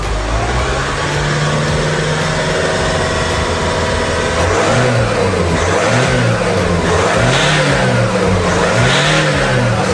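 A diesel engine fitted with an exhaust add-on runs loud and close, idling steadily before being revved in repeated rising and falling surges.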